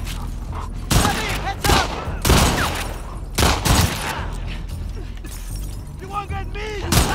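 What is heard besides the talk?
gunfire in video game The Last of Us Part 2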